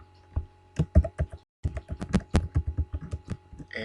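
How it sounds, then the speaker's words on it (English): Keys clatter on a computer keyboard in two quick bursts of typing with a brief pause between them, close and fairly quiet. "let's go ahead and type in education"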